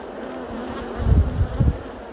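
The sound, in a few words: honey bees buzzing during a hive inspection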